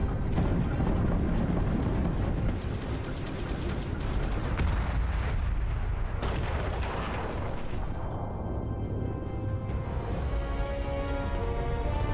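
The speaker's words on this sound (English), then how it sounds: "they're literally having in-space dogfights" Starfield video game trailer showing a dogfight in space, with dense, loud, continuous bursts of gunfire and booming blasts layered into a heavy roar that thins out toward the end, no talking.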